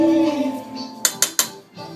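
A spoon knocks against a pot while Thai curry paste is added for a curried pumpkin soup, giving three quick, loud metallic clinks over a steady background hum.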